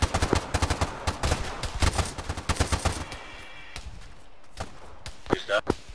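Rapid bursts of gunfire in a combat game, sharp cracks in quick volleys for the first half, then scattered single shots with a voice talking between them.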